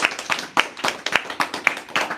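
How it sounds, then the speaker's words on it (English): A burst of applause, quick irregular claps from a small group, fairly close and lively, with no talking. "Everyone give a nice round of applause for Jai Nitai Prabhu."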